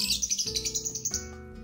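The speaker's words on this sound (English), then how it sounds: "Lovebird." A lovebird call from a children's zoo app: rapid high-pitched chirps repeat in a quick rhythm over a light musical background, loud and close.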